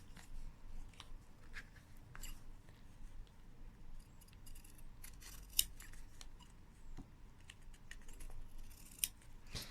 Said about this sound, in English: Then if you take your scissors and just start cutting out your petals